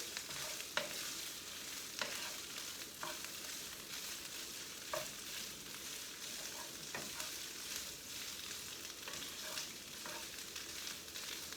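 Food sizzles steadily in a pan, a soft constant frying hiss with occasional small pops and crackles, fairly quiet throughout.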